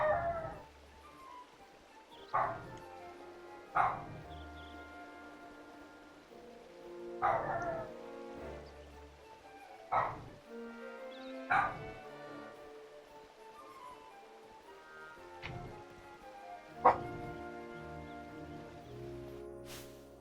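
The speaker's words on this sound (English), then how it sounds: "He is being such a bad dog." A dog in the video game Final Fantasy XII barks, yips and whimpers in scattered short bursts, about eight sharp yelps spread over quiet, with no talking.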